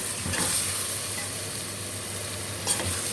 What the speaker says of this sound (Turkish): Evet karıştırıyorum.